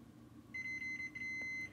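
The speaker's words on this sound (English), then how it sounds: "if we just do a continuity test, get the beep" A multimeter gives a steady continuity-test beep while probing the pins of a Neutrik combo jack, one sustained high electronic tone starting about a third of the way in and holding to the end, with faint handling noise.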